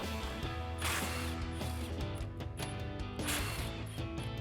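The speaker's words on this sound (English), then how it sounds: "we've got our 18 millimeter socket on our impact. We're going to remove all these" An impact wrench fitted with an 18 mm socket removes subframe bolts from a Corvette during an axle-back exhaust swap, giving close, loud bursts of rattling, ratcheting hammering in uneven pulses.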